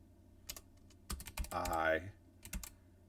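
Computer keyboard typing in short bursts of close, crisp key clicks, with a brief spoken phrase between the bursts.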